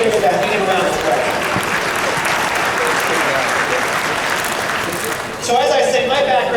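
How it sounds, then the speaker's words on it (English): Round of applause from a crowded room at the Lancaster Spring Dinner political event, loud sustained clapping from many hands with a voice carrying over it near the end. "We need a round of applause."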